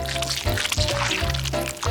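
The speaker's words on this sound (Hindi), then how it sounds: "जार खोलेंगे और शहद डालेंगे।" Honey pours from an opened jar into a glass of strawberries, with soft, wet, sticky drips and trickles heard close up over a steady background hum.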